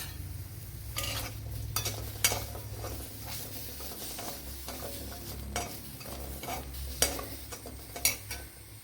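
Curry leaves and a gooseberry-sized piece of tamarind fry in a pan for curry-leaf coconut chammanthi, a steady soft sizzle broken by repeated scraping stirs of a spoon against the pan.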